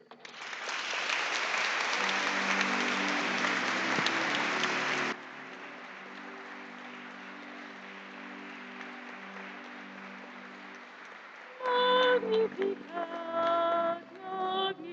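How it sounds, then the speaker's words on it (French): Congregation applauding during an Easter Day Mass at a church after a baptism, a dense burst of clapping that drops to a softer, sustained level as organ or sung tones enter, then singing rises near the end. "Nous pouvons les applaudir"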